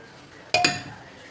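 Chopped onions and green chillies dropped into a pressure cooker for a jackfruit seed and drumstick leaf curry, giving two quick metallic clinks close up against a quiet kitchen background.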